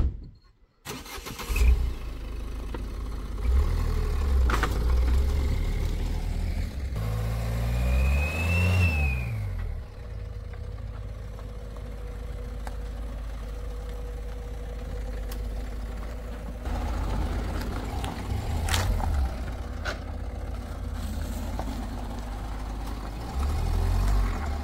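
A Ford EcoSport's engine revs and strains on a steep hill road near a temple in Chail, Himachal, rising and falling in loud, continuous bursts with a brief pitch sweep midway, no talk over it.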